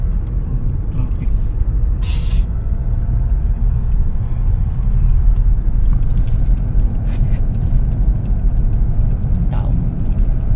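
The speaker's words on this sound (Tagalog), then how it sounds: "Traffic." Constant low rumble of city street traffic, with cars and larger vehicles passing close and loud and a brief hiss like an air brake, mixed with voices.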